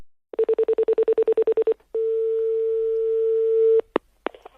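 A telephone line for a prank call: a quick run of about a dozen even tone pulses, a short pause, then a long steady tone lasting about two seconds, followed by a couple of brief clicks, loud and close.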